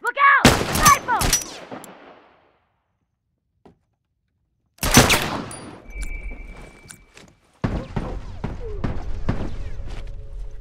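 Rifle fire in The Last of Us Remastered: a couple of loud close cracks, a near-silent gap, then another heavy blast followed by a rattling stretch of rapid shots and clatter.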